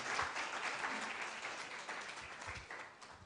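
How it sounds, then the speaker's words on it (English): An audience at a broadband forum in Ghana applauds a speaker, a soft, steady wash of many hands clapping heard from a distance throughout. "Please let's give Charles a big round of applause."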